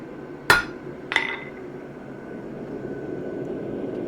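A balanced hammer strikes a metal punch twice, each a sharp, close metallic crack with a bright ringing tail, half a second apart, followed by a steady background hum.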